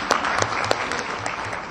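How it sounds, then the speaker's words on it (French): A crowd applauds women at a French-language speech on corruption, with a dense, steady wash of clapping at close range throughout, no voices on top. "Femmes, applaudissez pour vous."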